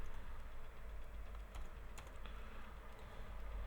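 Quiet, steady keystrokes on a computer keyboard as code is typed, a faint continuous patter over low background hum with no voices.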